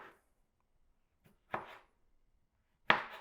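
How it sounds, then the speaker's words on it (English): A knife cuts cherry tomatoes in half on a cutting board, producing a few separate crisp slicing and tapping strokes spaced apart by quiet pauses, close and fairly soft. "I'm just gonna cut them in half"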